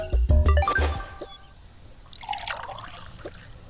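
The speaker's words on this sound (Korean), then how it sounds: "제가 또 음료수 같은 걸 넣어서 보여드리도록 할게요" Drink poured in the Toca Boca mobile game, a soft trickling, dripping liquid sound after a few short cartoon chimes and tones, fairly quiet and alone with no talking.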